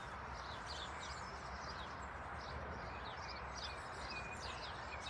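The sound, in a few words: birds singing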